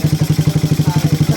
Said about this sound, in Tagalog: Sobrang tahimik na makina.